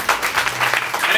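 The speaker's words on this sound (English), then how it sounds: "Please give them a round of applause" Festival crowd applauding touring bands at the 80/35 music event, a brief burst of scattered clapping with a voice heard over it.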